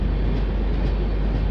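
Garib Rath Express rolling slowly past Kumedpur Junction, a steady close rumble of the carriage running on the rails.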